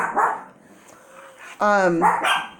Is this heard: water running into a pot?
no